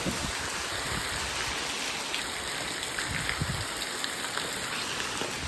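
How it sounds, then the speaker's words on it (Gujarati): Heavy rain pours down in a dense, loud, unbroken hiss of drops hitting surfaces, steady for the whole stretch with no voices over it. "અત્યારે છે ને વરસાદ વધી ગયો"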